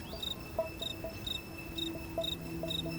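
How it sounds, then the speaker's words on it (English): A cricket in a terrarium tank with a desert corner chirps in short, evenly spaced bursts, a thin steady rhythm that repeats about six times, faint and close over a low background hum. "a cricket was quietly searching for food."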